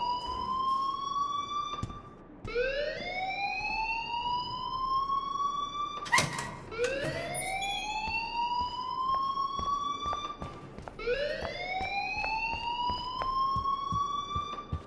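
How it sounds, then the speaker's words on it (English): School alarm ringing in the video game Life is Strange: loud rising siren whoops that sweep up and then hold, repeating several times with a few sharp knocks in between. "please turn off that alarm since that's your job"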